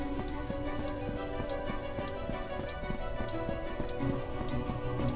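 Horse hooves clip-clop at a steady walking pace in a Kingdom Hearts Final Mix game scene, a soft repeated tapping sitting under a constant hum of background music, moderately faint throughout.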